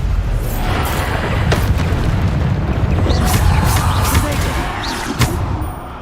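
Spell blasts in the fantasy action game Hogwarts Legacy, several heavy booming explosions and sharp impacts over a loud, busy combat din.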